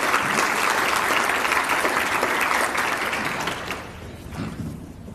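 A crowd at a chamber of commerce education event applauds loudly and steadily, the clapping fading and thinning out toward the end.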